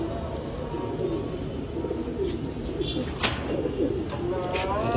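Pet pigeons kept in a coop coo softly and repeatedly at close range, with a brief brighter call and a voice in the background.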